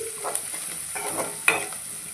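Potato samosa filling fries in a pan with a soft sizzle while a spoon stirs it in a few scraping strokes, faint and brief with no voices.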